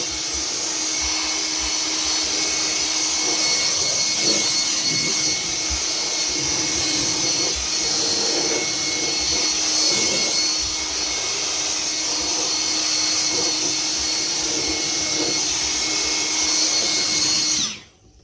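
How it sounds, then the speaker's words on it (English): A Ridgid handheld blower clearing debris out of the air filter box of a 2011 Hyundai Sonata 2.4 roars as a loud, steady, high-pitched whine at close range for about eighteen seconds, then cuts off abruptly. "I take my little trusty rigid blower, nice little handy one. I'm gonna hold the rag and I'll blow this all out."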